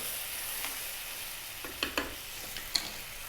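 Fish curry sizzling and frying in a pan as coconut milk goes in, a steady soft hiss broken by a few sharp crackles and pops, fairly quiet and close, with no talking.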